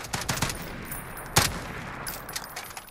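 An FN FAL Para rifle fires in Call of Duty Modern Warfare, several sharp, close shots in quick bursts, with one louder crack standing out mid-sequence and fainter reports trailing after.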